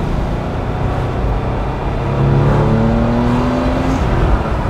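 A 1996 Porsche 993 Carrera 4 Cabriolet in midnight blue pulls away hard, its engine note climbing steadily with rising pitch, loud and close throughout, with no talk over it.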